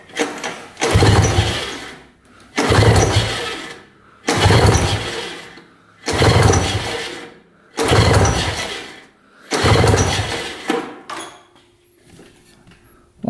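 A 1970s snowmobile engine with no spark is pulled over during a compression test, giving six evenly spaced bursts of rhythmic chugging, each about a second long and separated by short pauses, close and loud, fading at the end.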